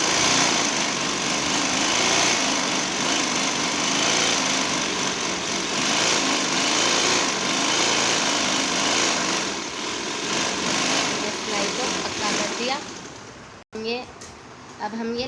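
Sewing machine stitching the underarm seam of a kurti, a fast steady mechanical whir running continuously up close, then stopping abruptly near the end.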